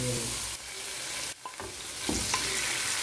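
Oil sizzling in a pan with noodles and ingredients being stirred and tossed, a continuous loud hiss broken by short clanks and scraping of a utensil, close by.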